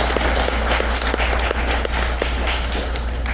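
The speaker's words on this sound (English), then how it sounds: "please give them a round of applause" An audience at a sponsor recognition event gives a dense round of applause, continuous and fairly loud throughout.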